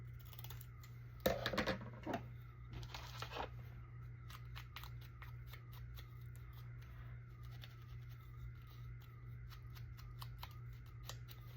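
Scissors snip through paper while trimming folded journaling cards, a few crisp cuts early on followed by faint sporadic clicks over a low steady hum, with no voices.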